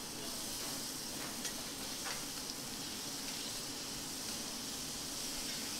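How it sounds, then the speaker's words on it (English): Butter sizzles and foams in a hot pan alongside king scallops, a steady close hiss that holds evenly throughout with no talking over it. "a little touch of butter into the pan. And very quickly foam that around."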